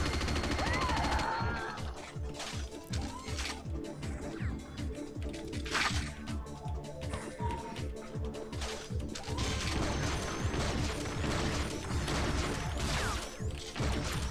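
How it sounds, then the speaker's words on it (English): A minigun fires in Unreal Tournament, a PC deathmatch video game, as a steady, rapid stream of mechanical shots over a busy, clattering game soundscape, with little talk. "got the minigun. I really like the minigun when it's available"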